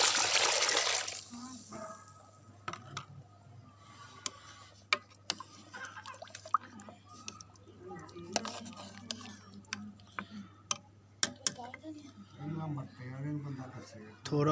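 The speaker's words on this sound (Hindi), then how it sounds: "अब इसमें डालेंगे यखनी जो" Mutton stock (yakhni) is poured into a pot of desi-style mutton paya, giving a brief loud splashing rush at the start. Someone then talks over faint kitchen clicks and clinks.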